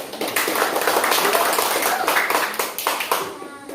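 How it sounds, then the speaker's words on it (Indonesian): A classroom of students claps for a presenting group, steady close clapping from many hands that thins out near the end, with voices faintly under it. "Tepuk tangan dulu untuk mereka."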